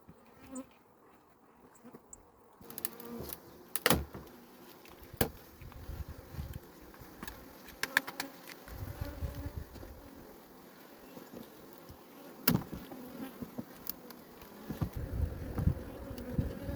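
Honey bees buzz continuously around an open hive during a brood sample check for foulbrood, a steady close swarm drone with several sharp knocks and handling bumps, outdoors and without talk.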